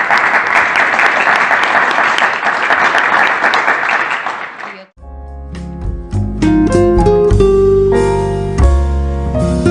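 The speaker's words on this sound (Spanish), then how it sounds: "Infiltrado, sí, un aplauso." Audience applause fills the first half at a talk, a dense steady clapping that stops abruptly at the midpoint, after which music takes over.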